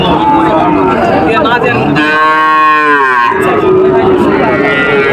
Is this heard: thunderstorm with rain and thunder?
no